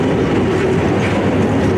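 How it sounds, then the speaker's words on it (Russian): A train arrives at Protoka railway station in Kuban, its heavy rolling rumble and rhythmic wheel clatter loud and close, continuous with no talking. "Ежедневно на железнодорожную станцию «Протока» прибывают поезда из разных регионов страны."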